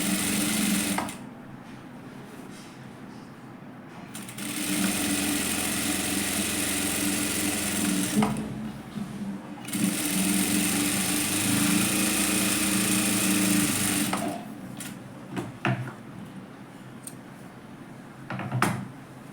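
Sewing machine stitching a katori blouse: several bursts of fast, whirring machine stitching a few seconds long, separated by quiet pauses and light handling clicks, close and fairly loud, no talking.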